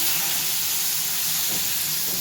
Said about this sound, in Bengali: এই দেখো, আলু আর বেগুনটা এবার আমি এখানে ছেড়ে দিচ্ছি।